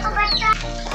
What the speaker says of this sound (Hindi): ये मुर्गी का बच्चा।